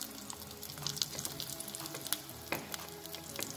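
Small onions fry in a pan over the lowest flame on the smallest burner, with a steady soft sizzle broken by a few sharp crackles and pops close by.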